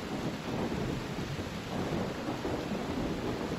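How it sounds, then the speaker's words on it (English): Heavy rain in Far Cry 3 pours steadily in a dense, continuous roar with a low rumbling undertone and no voices. "this is like the loudest rain"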